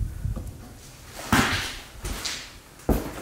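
An old wooden door in an abandoned farmhouse opens with a few knocking, creaking thuds, the loudest near the middle and another near the end, close and alone with no talk.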